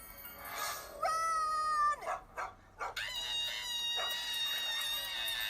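Cartoon dog from the Angela Anaconda animated series making barking, yipping and howling sounds, several sharp calls followed by sustained higher wailing, with background music and no speech.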